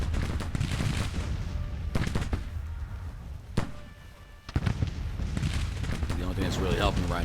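Dense rolling musket fire and artillery booms from a Civil War strategy game battle, with sharp cracks standing out against the continuous din while someone talks over it.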